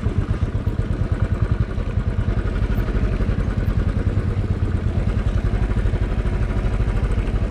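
A new motorcycle rides downhill on a road toward Gundu, its engine giving a close, steady, rapidly pulsing putter that holds throughout without a break.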